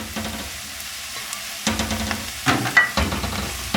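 Cake pieces being fried in oil for a potato halwa, a soft sizzle with a few stirring scrapes and louder bursts toward the end, close and without talk.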